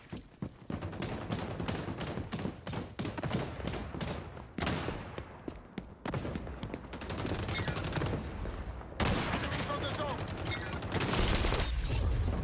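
Sniper rifle fire in XDefiant at a shooting range: a long run of rapid, close gunshots with brief pauses, then a denser, louder stretch of shooting, with some voice in the background.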